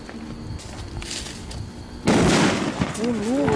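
A sharp, loud firecracker blast inside a refrigerator bursts out midway after a quieter stretch of voices and a countdown, followed by a rumbling tail and talk.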